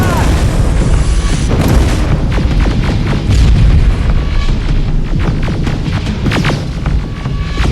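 Rocket explosions in the shooter game Terminator: Resistance, loud, dense booms and throbbing blasts that roll on continuously, with bursts and pops layered over a heavy low rumble and occasional shouting voices.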